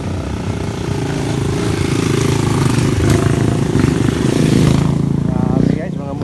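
Motorcycles on a mountain trail rumble past in a loud, close, continuous engine drone that builds and then fades near the end, with someone talking over it.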